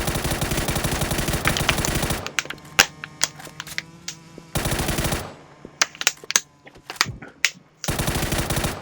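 Video game gunfire aimed at a flying target comes as loud, rapid automatic bursts, each lasting a couple of seconds. Between them sit sparse, sharp single shots and clicks, close up with no voices.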